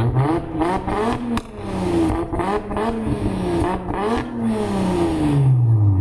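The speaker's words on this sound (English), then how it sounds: "So you hear the sound of the Skunk 2s, definitely not what you're used to on most B-Series Hondas." Honda B-series engine fitted with Skunk2 parts revving up and down several times, a loud, close, aggressive rasp with rising and falling pitch sweeps and no talk over it.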